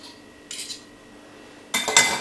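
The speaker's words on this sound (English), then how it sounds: "just use a fork and simple, just mash it like this" A fork scrapes and clinks against a plate while mashing the scooped-out flesh of a stuffed jacket potato, heard in two short bursts of close scraping separated by a quiet pause.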